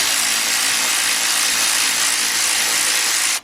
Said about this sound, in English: I'm using a 13mm shallow socket, 3/8 drive, with my Big Bill cordless Earthquake XT ratchet